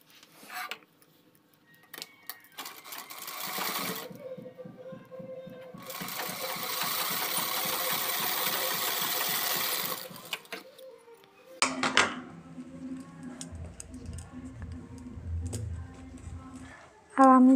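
A sewing machine stitches a net designer blouse, its rapid mechanical chatter running steadily for several seconds in the middle after shorter bursts, then stopping, with quieter handling noises and a low hum afterward.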